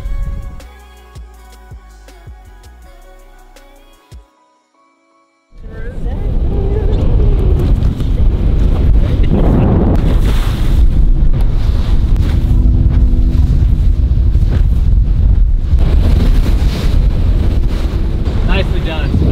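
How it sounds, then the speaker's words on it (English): A Ranger 518 bass boat running hard in windy, choppy conditions, its loud engine roar, wind buffeting and hull slapping steady after a quiet start where music and a brief pause come first. "This 518 Ranger freaking handles them like a champ."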